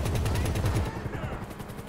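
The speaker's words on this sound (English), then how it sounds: "this vehicle with the minigun on it looks deadly" A vehicle-mounted minigun in GTA Online fires a rapid, continuous buzzing stream of shots for about a second before cutting off. A steady engine-like drone carries on beneath it.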